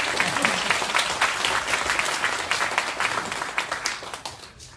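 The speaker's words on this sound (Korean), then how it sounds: "여기서 박수 한번 치셔도 됩니다." Seminar audience breaking into applause: a steady wash of many hands clapping together that holds for several seconds, then tapers off near the end.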